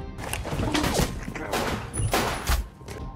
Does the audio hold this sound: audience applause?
no